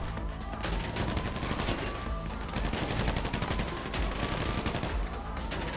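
Sustained gunfire in GTA V Online, a dense, continuous volley of rapid shots from close range with a heavy low rumble and a few brief dips in intensity.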